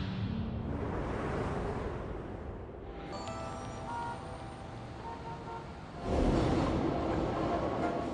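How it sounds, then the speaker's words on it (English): A train rumbles past on sprung tracks of London's Elizabeth Line with a steady low roar and some metallic squeals, swelling louder toward the end. "When a train passes over these springs, they should absorb all of the energy and noise"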